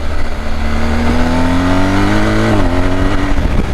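A BMW R1250GS TE Triple Black motorcycle accelerates hard up close, its engine note climbing steadily in pitch, dipping briefly at a gear change and then rising again, loud and continuous with no talking.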